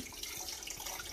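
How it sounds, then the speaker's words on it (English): Tap water runs steadily into a tin can in a home kitchen while cooking, a continuous close hiss and splash with no talking over it. "some water in one of the can, some water in the other can."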